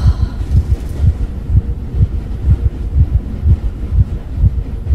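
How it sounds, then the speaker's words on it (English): A slow, steady heartbeat pulses with deep, loud, evenly spaced thumps over a low hum in a horror video game. "The heartbeat, I can't tell if it's slowing down."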